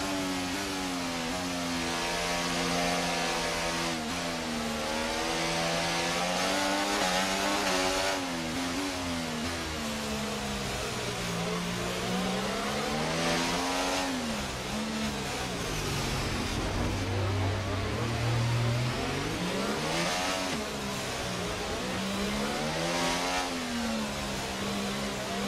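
Formula 1 car engine in the F1 24 racing game at Monaco, a loud continuous high-pitched whine that rises and falls steadily through gear changes as the car accelerates, with no talk.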